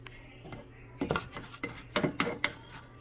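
A utensil scrapes and clinks against a metal pot while stirring rice for Mexican rice, in a series of quick, uneven strokes, close by and with no talking.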